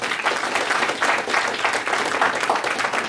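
An audience at a book launch event gives the speakers a sustained round of applause, dense, even clapping from many hands throughout.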